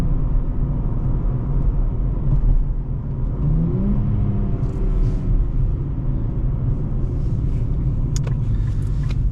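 A 2024 Nissan Z Heritage with an automatic transmission, fitted with fiber-pack mufflers, hums along with a steady low exhaust drone and engine rumble as it cruises, with mild swells in pitch, heard from inside the cabin.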